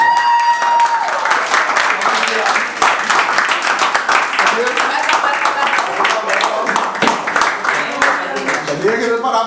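An audience at a Toastmasters club meeting applauds, brisk, crisp claps packed into a lively, continuous round that holds steady from start to finish, with murmured voices beneath.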